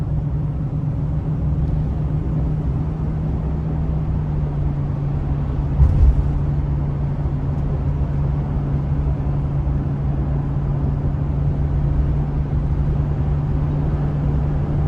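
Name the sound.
Chevrolet Express 2500 conversion van driving around turns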